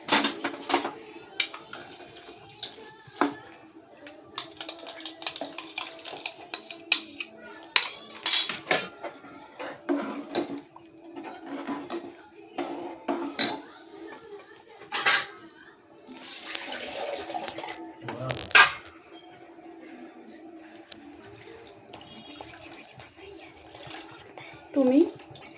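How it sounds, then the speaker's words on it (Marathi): Water is poured into a pot of matki sprouts for cooking, a run of splashing pours and clinks of utensils against the pot in a home kitchen, with a voice speaking between sounds. "आणि आता मटकी शिजासाठी थोडं मी पाणी घालते त्याच्यात."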